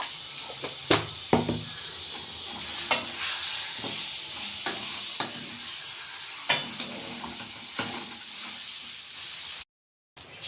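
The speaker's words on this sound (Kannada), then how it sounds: "ನಾವು ಮಸಾಲೆ ಜೊತೆಗೆ ಸೇರಿಸ್ಕೊಂಡು ಈ ಥರ ಫ್ರೈ ಮಾಡ್ಕೊಳ್ಳೋದಕ್ಕೆ ಒಂದು ಹದಿನೈದರಿಂದ ಇಪ್ಪತ್ತು ನಿಮಿಷ ಆಗುತ್ತೆ" Mutton pieces frying with masala in a pan, a moderate sizzle punctuated by sharp spatters and scraping stirs at irregular intervals, close by, ending in a short silence.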